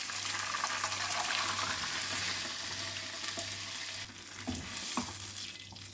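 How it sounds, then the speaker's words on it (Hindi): Coconut milk pours into a pan of frying ginger, garlic and curry leaves, giving a steady close sizzle and bubbling with stirring scrapes and a few sharper knocks near the end, no voices. "अब इसमें हम डाल देंगे कोकोनट मिल्क।"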